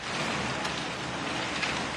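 Heavy rain pours in a dense, constant hiss, thick and loud, with the whoosh of strong typhoon wind blended into the downpour, in Kasiguran, Aurora, Philippines.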